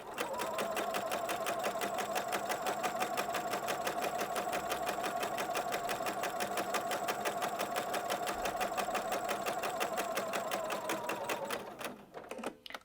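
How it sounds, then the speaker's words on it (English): A sewing machine runs at a steady high speed while stitching shirring, an even rapid mechanical whir with a fast needle rhythm sustained without pause, then it slows and stops near the end. "It's one of those lovely sewing tasks where you can just put your foot down and go."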